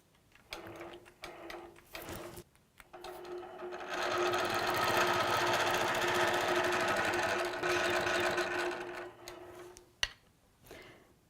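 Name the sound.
longarm quilting machine stitching a secure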